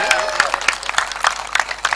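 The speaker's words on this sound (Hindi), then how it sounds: "जोरदार ताली होनी चाहिए इसके लिए" Scattered applause at a WPL cricket prize distribution ceremony, with crisp claps clustering in irregular bursts, fairly close and lively for the length of the clip.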